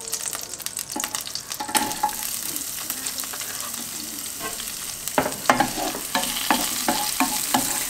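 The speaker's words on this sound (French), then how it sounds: "Et là je vais y ajouter du coup l'échalote pour commencer à la faire dorer un petit peu." Shallot frying in melted margarine in a sauté pan, a steady sizzle under repeated scraping and tapping strokes of a utensil, which grow more frequent toward the end.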